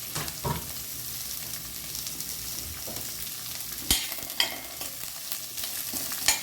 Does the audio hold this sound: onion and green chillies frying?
yes